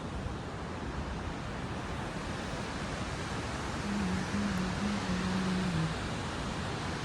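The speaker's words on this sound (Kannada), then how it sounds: "ಈಗ ನಿಮ್ಗೆ ವಾಟರ್ ಫಾಲ್ಸ್ ತೋರಿಸ್ತಿದ್ದೀನಿ" Kumbhe waterfall in a valley gives a constant broad roar of rushing water with a wind-like hiss, steady and unbroken throughout with no voices.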